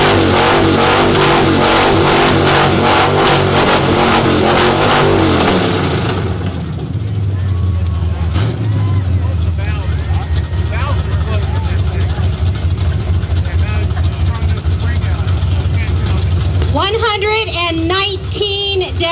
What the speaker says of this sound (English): These guys come out here and rev up their motor.